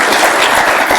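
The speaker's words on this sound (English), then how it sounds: "Round of applause, please." An audience at a Yale innovation summit pitch event claps in a brief, dense burst of applause that stays loud for about a second.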